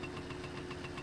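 A motorbike engine in the driving game My Summer Car runs with a steady, rough low drone and rhythmic pulsing, close and even, with no talk.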